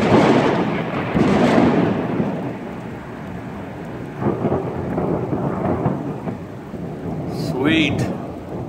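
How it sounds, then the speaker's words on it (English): A heavy thunderstorm with steady rain and deep, rolling thunder rumbling in waves, loud and close, with the rain continuing throughout. "There is one heck of a thunderstorm going on."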